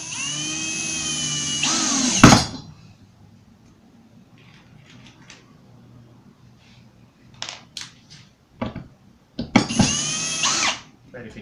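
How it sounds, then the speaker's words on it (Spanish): A power drill driving screws into an MDF shelf: two loud whirring runs near the start and end, each ending in a rising bite, with quieter handling knocks in between. "Nos fijamos que esté al ras al frente y unimos con los tornillos"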